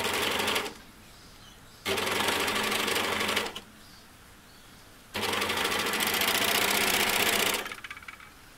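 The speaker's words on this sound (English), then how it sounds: "now we're going to overlock or zigzag our inside leg seam" An overlocker runs in two long bursts while sewing the seams and edges of a pair of shorts, its fast even hum starting and stopping with quiet gaps in between, close and alone.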